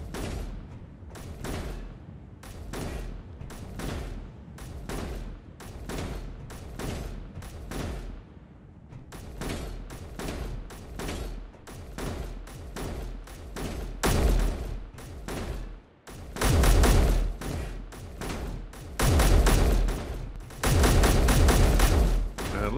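Sustained automatic gunfire in Space Engineers, turrets firing at a ship, loud dense rattling bursts with brief gaps, growing heavier and more booming toward the end.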